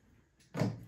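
Plastic door on a Prusa Core One 3D printer swinging shut, a single fairly loud thump with a short rattle after a quiet lead-in, heard alone.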